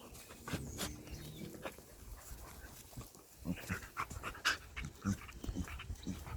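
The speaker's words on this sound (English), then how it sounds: "That's my dog." Near the microphone, an excited dog pants in quick bursts and lets out small whimpers outdoors on grass. The sounds are faint and uneven, with scattered louder breaths.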